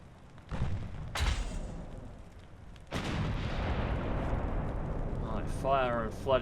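Naval gunfire from a warship battle in Ultimate Admiral: Dreadnoughts, featuring USS Monitor: several heavy booming shots with long rumbling tails, followed by a brief voice near the end.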